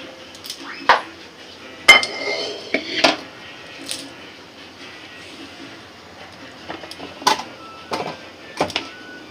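A small kadhai pan is handled in a home kitchen while making egg biryani, with sharp metallic clanks and knocks scattered among quieter clatter, close and intermittent.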